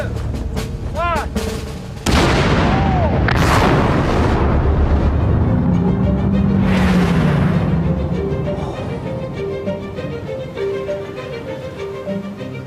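A detonator sets off breakfast cereal mixed with oxygen in a single loud blast that booms and then rolls on as a long, heavy rumble slowly fading away, with faint voices in the background.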